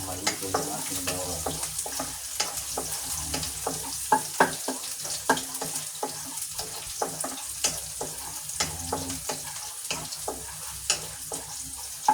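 Garlic sautéing in a pan, a light sizzle broken by frequent sharp clicks and scrapes of a utensil against the pan in an irregular stirring rhythm, close and fairly quiet.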